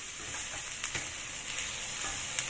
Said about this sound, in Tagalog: I-fry din natin yan hanggang sa lumabas yung aroma ng mushroom.